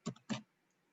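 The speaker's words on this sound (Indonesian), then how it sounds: "Ini kita klik 2 kali." Two quick, close mouse clicks, a double-click, while building a circuit in electronics simulation software, sharp and isolated with silence after.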